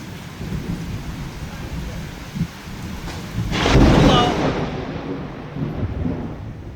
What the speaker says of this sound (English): Today is raining and have thunderstorm.